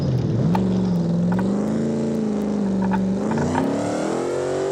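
A 900 hp naturally aspirated drag wagon roars through a burnout, engine loud and close, revs climbing and holding high with a harsh continuous drone and intermittent crackling.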